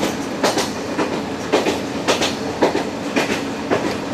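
A slow train's tail passes close by on a French regional line at about 15 km/h, its wheels beating a steady clickety-clack rhythm of rail-joint knocks over a continuous rumble.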